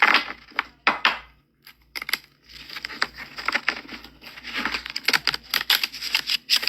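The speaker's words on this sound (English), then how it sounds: "let's shuffle the deck" A tarot deck is shuffled by hand, giving bursts of papery riffles and flicks in uneven clusters separated by short pauses, close and moderately loud with no talk.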